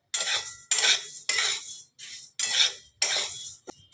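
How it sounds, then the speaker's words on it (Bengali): Moong dal is dry roasted in a hot kadai, a spoon scraping and stirring it in about six rhythmic bursts with short pauses between, close and clear with no talking. "এবার মুগ ডালটা আমি দিয়ে দিলাম। এবারে একটু হালকা করে আমাকে ভাজতে হবে,"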